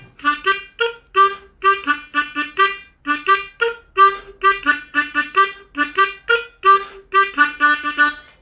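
Harmonica plays a rhythmic, repeating melody in short punchy bursts of notes, close and clear with no talking.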